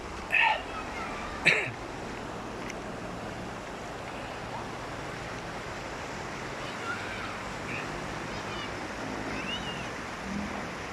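Strong, fast-flowing river water rushes steadily across a clear swimming spot, a broad continuous wash with light wind, briefly interrupted early on by a couple of sharp nearby knocks and faint voices.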